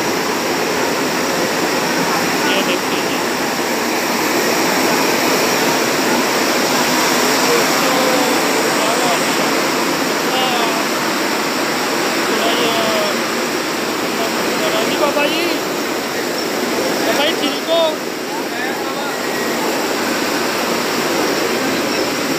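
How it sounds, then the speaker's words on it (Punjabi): A chemical-finishing super machine in a textile mill runs with a loud, steady, rushing drone that fills the space, with faint voices occasionally audible beneath it. "ਇਹਨੂੰ ਸੁਪਰ ਮਸ਼ੀਨ ਕਹਿੰਦੇ ਨੇ ਇਹਦੇ 'ਚ ਕੈਮੀਕਲ ਵਗੈਰਾ ਲੱਗਦੇ ਨੇ"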